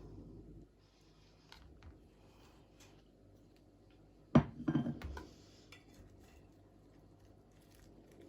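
A knife cuts a slice from a homemade spinach and corn pie baked in a tray, giving a short burst of crisp crust crunch and scraping against the pan, quiet before and after.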